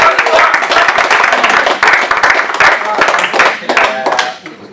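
Clapping breaks out during a sports team's press conference, a dense patter of hands that holds steady for several seconds before tapering off near the end.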